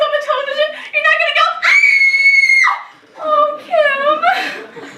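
Teenage performers in a high school stage production of Bye Bye Birdie let out loud, close, high-pitched screams with giggly, sing-song cries before and after one long sustained shriek.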